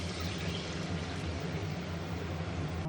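Water is poured into an egg masala with coriander powder and salt, giving a steady, even rushing pour close by that lasts the whole few seconds without a break, with no voices.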